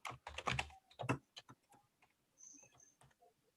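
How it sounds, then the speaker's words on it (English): Someone types on a computer keyboard while entering a comment in an online course page, a quick run of close, crisp key clicks that slows to scattered, softer taps. "If I add a comment just by typing in this box here"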